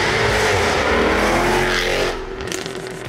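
A 2014 Jaguar F-Type V8 S engine roars loud and close at sustained high revs, then eases off sharply near the end as the note drops and settles.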